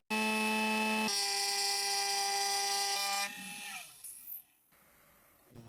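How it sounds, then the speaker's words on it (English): A CNC machine milling a 7075 aluminum plate into a platform gives off a loud, steady, high-pitched tonal whine that shifts pitch, then weakens into quieter mechanical rumbling and a few clicks. "I use CNC technology to turn this 8 miles Limet 7075 aluminum plate into the platform we need"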